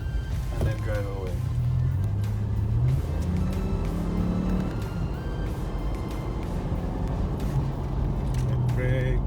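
A Mitsubishi Montero Sport engine hums and rises in pitch as the vehicle pulls away after light braking, heard from inside the cabin with steady road noise and no talking.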